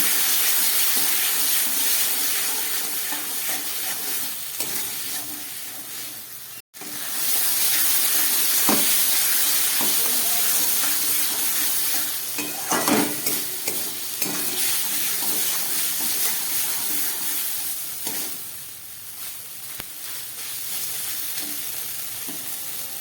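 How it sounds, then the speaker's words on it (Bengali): Spice paste for a spicy bele (sand goby) fish curry, with two green chillies, sizzling and being stirred down in a pan until the water dries off. It is a steady, continuous fry with scraping stir strokes throughout, close up and with no talk. "যতক্ষণ না জল শুকাবে আমি এটাকে কষিয়ে নেব।"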